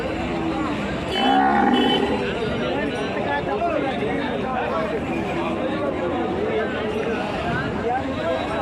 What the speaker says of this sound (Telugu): ఒంగోలు గిత్తలు అన్న ఒంగోలు గిత్తలంట చూపిస్తున్నాను